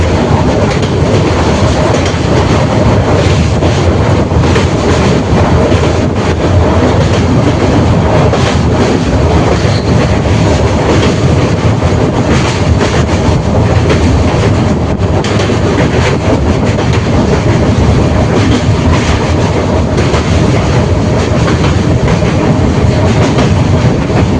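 Dhauli Express train crossing the Rupnarayan river bridge, recorded from inside the moving train, with a loud steady rumble and continuous clickety-clack of wheels on the rails.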